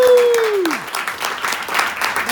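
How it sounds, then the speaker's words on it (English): Applause from a live comedy show audience, broad clapping that starts loud and stays steady for a couple of seconds, with a bright descending tone fading at the start. "give them a round of applause"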